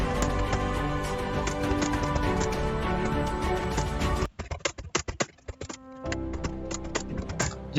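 A prompt is typed on a computer keyboard: a quick run of clicking keys under steady background music, then sparser, clearer taps once the music drops out.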